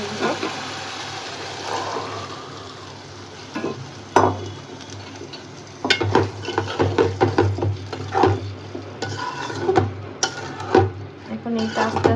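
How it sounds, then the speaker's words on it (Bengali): Boiled chickpeas are tipped into a pan of frying masala and stirred, giving a steady sizzle with scraping, clattering stirs that grow busier toward the end. "এখন হচ্ছে আমি বুট দিয়ে দিব।"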